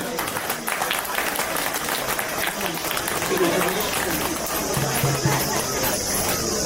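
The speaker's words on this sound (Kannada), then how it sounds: "ತಮ್ಮ ಹೃದಯಪೂರ್ವಕ ಚಪ್ಪಾಳೆಯೊಂದಿಗೆ, ದಯವಿಟ್ಟು ಚಪ್ಪಾಳೆ." Audience applause welcoming a guest at a stage event, a dense steady patter of clapping from a crowd that runs the full length, with background voices mixed in.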